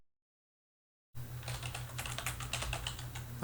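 Rapid keystrokes on a computer keyboard as a name is typed into a box, starting abruptly after a second of silence and continuing as a dense, close run of clicks over a steady low hum.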